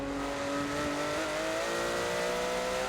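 A Porsche GT3 race car in a racing video game at Bathurst holds a steady, high engine whine with a slowly rising pitch as it crosses the finish line, loud and continuous with no talk.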